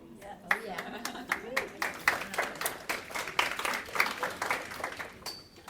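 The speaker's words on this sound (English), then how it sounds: "Thank you for the golf clap." A business talk audience gives a light golf clap, sparse individual hand claps building into a loose patter and tapering off, with some talking mixed in.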